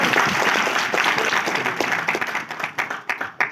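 An audience applauds a motivational speaker, the clapping full and steady at first, then fading into separate claps and a few last bursts near the end.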